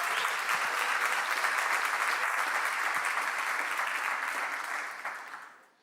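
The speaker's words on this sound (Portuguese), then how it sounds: "dê um forte aplauso a Ele" A church congregation applauds strongly after a call to praise God, with sustained, full clapping that stays loud before tapering off at the end.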